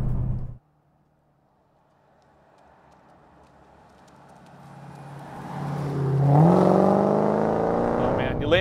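2019 Dodge Challenger SRT Hellcat Redeye under throttle, its supercharged V8 building from a low drone into a loud, rising roar that peaks and holds near the end, after a brief cut of talk at the start.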